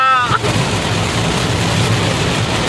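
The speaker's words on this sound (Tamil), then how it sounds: "இந்த பேய் மழை அடிக்குது" A dense, steady hiss of heavy rain pours continuously, broad and loud, after a brief tonal sound at the very start.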